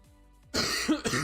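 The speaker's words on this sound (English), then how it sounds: "my cough is just being persistent" A man coughs close to the microphone, a short harsh burst of two or three coughs after a quiet, near-silent stretch.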